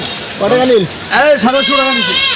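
A goat bleats a couple of times, quavering calls close by, amid voices and bustle at a village cattle and goat market in Dimla.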